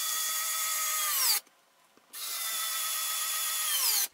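A power tool drives screws while joining leg parts of an Iron Man exosuit, giving two loud, sustained high-pitched whirring runs with a brief pause between them, each winding down at the end.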